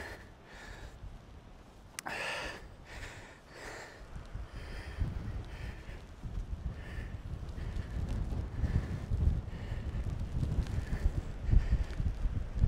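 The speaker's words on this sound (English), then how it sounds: "And the wind is really picking up" Strong wind gusts on a steep hillside climb, roaring and buffeting close against the microphone and building louder over the stretch, with breathy sniffs near the start.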